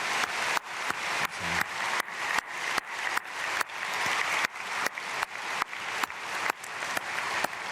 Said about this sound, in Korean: 귀한 은혜 감사드리고 박수로 축복하겠습니다.